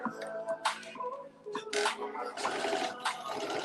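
A sewing machine bastes sweatshirt pieces together in short, uneven runs of stitching mixed with handling noises, close and moderately loud, with brief bits of voice among them.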